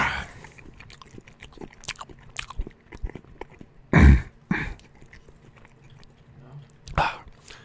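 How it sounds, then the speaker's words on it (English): In ZERO Sievert, a character eats with wet, crunchy bites in irregular bursts, a few louder and closer, over a low, busy game background. "He's like ASMR to me chewing."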